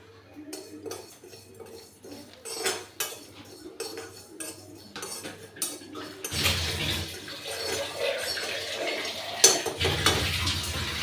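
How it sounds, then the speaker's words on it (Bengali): Dry fennel seeds rattle and scrape in a very hot metal pan with repeated clinks and stirring, growing into a louder continuous sizzling rustle. "মৌরিটা আমি এই যে শুকনো করাতে একটু একটু সামান্য ভেজে নিচ্ছি"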